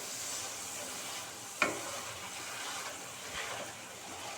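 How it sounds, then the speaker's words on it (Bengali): Salt being stirred into prawn dopiaza gravy as it fries in a pan, a steady sizzle and hiss with one sharp scrape of the spoon partway through, close and alone. "লবণ দিয়ে ভালোভাবে লবণটা মিশিয়ে দিতে হবে।"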